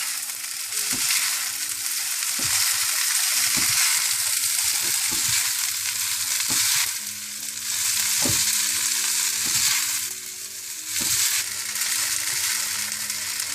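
Vegetable hakka noodles with green onion stir-frying in a hot pan, a loud steady sizzle broken by repeated sharp scrapes and knocks of the spatula tossing the noodles, close up with no talking.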